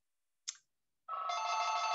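A telephone rings in an indoor presentation room, starting with a brief sharp chirp and then a sustained, loud electronic ring after a short pause.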